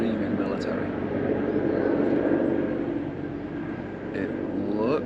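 A military helicopter, dark green and resembling a Huey, rumbles steadily overhead in Norway, loud at first, easing off, then swelling again toward the end.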